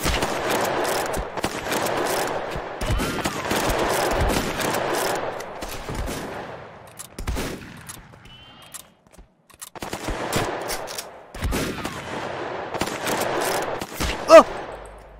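Rapid automatic gunfire from the video game Gunfighters rattles in long, loud bursts with short pauses between, close and dominant, with a few single sharper shots near the end.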